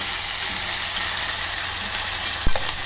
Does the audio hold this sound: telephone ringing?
no